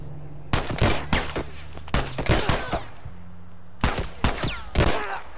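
Pistol gunfire in The Last of Us: bursts of sharp, loud shots in quick clusters, with short gaps between volleys and a low game hum underneath.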